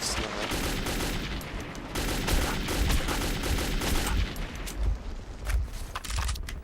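Heavy gun turret fire in the video game Metro 2033, sustained rapid volleys sounding close and loud across the whole stretch, with slight dips between bursts.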